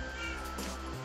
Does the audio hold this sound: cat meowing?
yes